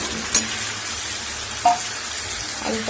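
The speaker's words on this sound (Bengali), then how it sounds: "মশলাটা একদম কষানো হয়ে গেছে, এবার দিয়ে দেবো এর মধ্যে ভেজে রাখা আলুটা" Spiced meat masala being stir-fried in a pan with fried potatoes, giving a faint steady sizzle with two soft stirring clinks, no talk.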